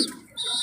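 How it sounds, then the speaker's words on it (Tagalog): Two fledgling birds give a brief, high, thin chirp up close, lasting under a second. "Dalawang inakay mga ka-RC."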